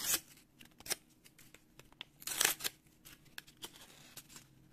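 A small paper surprise packet filled with flour is opened up close, giving crisp, irregular crinkles and snipping rustles with a louder tearing burst midway, all without voices.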